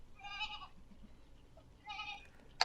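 Two distinct goat bleats from a large herd of around a thousand goats, each about half a second long and separated by a quiet pause, moderately loud over faint background.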